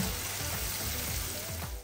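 A steady, close sizzle of bell pepper sautéing in a hot pan, crackling continuously with no talking.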